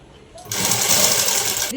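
Sewing machine stitching fabric, a steady loud mechanical whir starting after a brief pause and running continuously before cutting off abruptly near the end.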